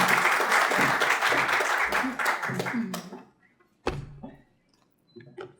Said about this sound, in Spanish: recibamos con un fuerte aplauso a nuestra querida Lilian.